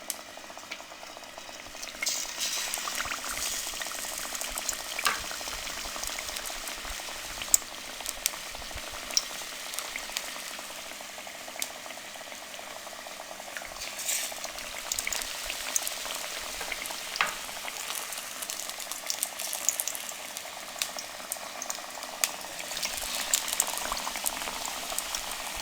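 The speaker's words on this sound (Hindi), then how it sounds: "हम तमाम आलू की कतलियों की कोटिंग करके इनको फ्राई कर लेंगे" Coated potato slices frying in hot oil, a continuous busy bubbling and crackling sizzle heard up close, with no voices.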